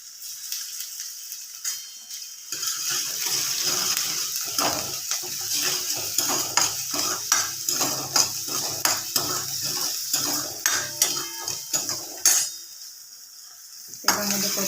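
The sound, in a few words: ginger garlic paste being sautéed in oil and stirred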